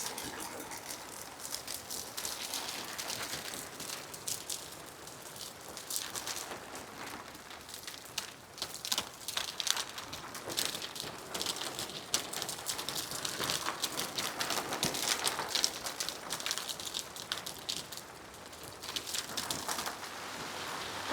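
A hailstorm pelts the plastic of a garden polytunnel, making a dense, continuous rattle of rapid hard ticks that swells and eases over twenty seconds, with no talking.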